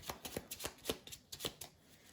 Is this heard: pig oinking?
no